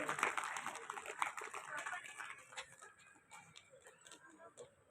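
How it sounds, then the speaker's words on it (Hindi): Audience at an oath-taking ceremony applauding to welcome guests, scattered clapping with distinct claps standing out, fading over several seconds while voices talk underneath. "जोरदार तालियों से स्वागत करें श्रीमान पीएन माथुर साहब और अरविंद जी"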